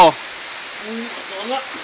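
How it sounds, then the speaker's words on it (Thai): Kor Luang waterfall gives a steady, even rush of falling water beneath someone speaking close by through the whole stretch. "เราก็มาถึง น้ำตก ก็หลวงนะครับ จุดหมายปลายทางของเรา"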